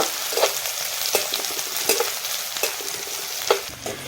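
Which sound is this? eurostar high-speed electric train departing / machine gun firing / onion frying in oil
onion frying in oil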